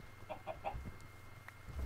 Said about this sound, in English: And chickens!